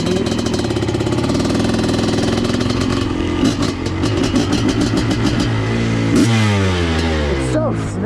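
A Honda CR500 two-stroke motorcycle engine runs loud and close, holding a high buzzing rev and then swooping up and down in quick throttle blips, with a voice briefly audible underneath.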